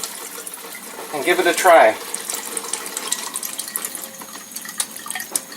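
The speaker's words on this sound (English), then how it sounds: "So now we'll make some Kangen water" Water runs briefly from an Enagic Leveluk K8 Kangen water machine, a short gush and splash lasting about a second under and around a person talking nearby.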